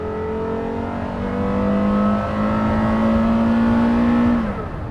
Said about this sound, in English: Driving the Carrera GT.